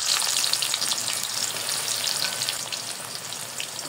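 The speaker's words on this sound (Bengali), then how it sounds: "তেল গরম হয়ে গেছে, দিয়ে দিব একটি তেজপাতা, বেশ কিছুটা পেঁয়াজ কুচি," A bay leaf and chopped onion fry in hot oil, a loud, dense, continuous crackling sizzle close up with no voices.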